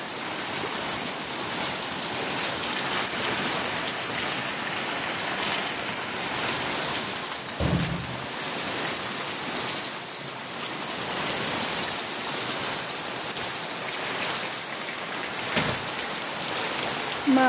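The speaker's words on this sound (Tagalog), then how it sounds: "Maulan na umaga sa lahat." Heavy morning rain with large, hail-like drops falls steadily and loudly, a dense continuous patter close by with a couple of brief low thuds, no voices.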